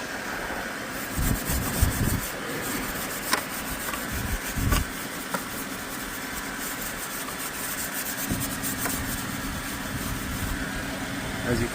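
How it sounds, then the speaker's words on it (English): A rag rubs corrosion off a chrome car bumper, giving a scratchy back-and-forth scrubbing in irregular strokes, with a few louder bursts, over steady background hum. "you just wanna rub it on the spot where you see corrosion"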